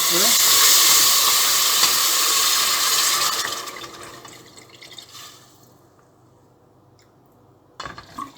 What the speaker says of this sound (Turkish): Şimdi kemik suyum var. Onu ekliyorum.